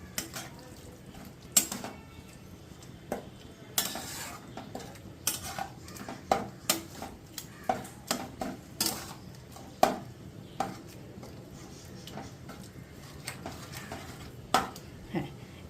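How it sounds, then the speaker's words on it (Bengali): Chicken with spices and ginger-garlic paste is stirred in a pot for chicken chana masala at home, with irregular clinks and scrapes of a spoon against metal over a quiet background, sometimes close and sharp, no talking. "এগুলো সবগুলো দিয়ে আমি এবার এটাকে ভালো করে মিশিয়ে নেব।"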